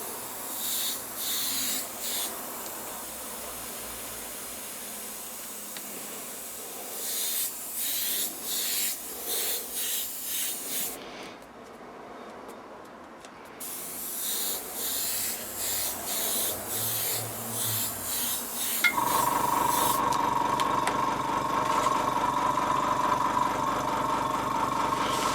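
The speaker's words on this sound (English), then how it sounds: "and spray it again." Repeated hissing bursts of spray paint over a stencil, several short sprays in a row, a pause, then more bursts and a longer continuous hiss at the end.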